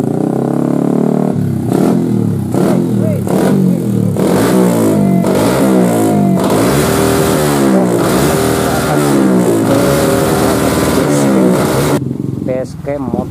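A loud modified Yamaha Jupiter MX motorcycle engine revs repeatedly in rising and falling bursts, close by and harsh, with a voice talking over it.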